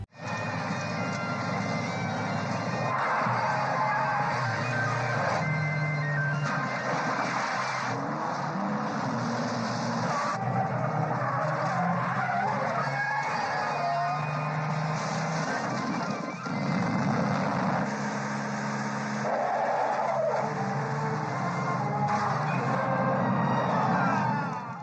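Cars roar through a film car chase, engines loud and constant across the whole stretch with revving surges and passing rushes, layered with dense action-scene sound and music.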